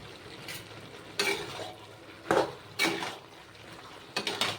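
A spoon stirs ash gourd with chopped tomato in a pan, giving a few scraping, clattering strokes against the metal over a soft steady sizzle, close up, with no voices.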